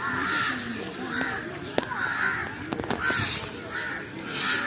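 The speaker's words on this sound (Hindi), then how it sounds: "क्या खूबसूरत चहचहाहट," Birds at a railway station after rain, with crows cawing in repeated hoarse calls at a moderate distance and a few sharp knocks in between.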